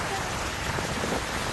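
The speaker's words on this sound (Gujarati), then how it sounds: "અનેક વિસ્તારોમાં વરસાદ વરસી રહ્યો છે।" Steady rain falls over village areas in Gujarat, making a dense, even hiss of drops that stays close and constant for the whole short moment.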